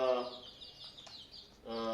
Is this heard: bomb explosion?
no